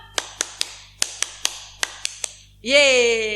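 Nine sharp claps in an uneven, lively rhythm, close and loud, ending in a burst of cheering voices.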